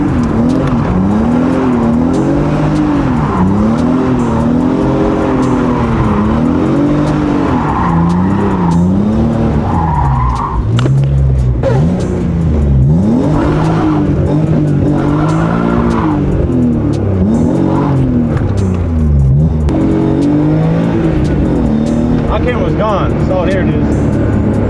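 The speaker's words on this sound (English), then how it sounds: "About to do some donuts, run this shit hot" A car spins donuts while being run hot, its engine revving in rising and falling swoops with tire squeal and skidding throughout, loud and continuous, with voices talking over it.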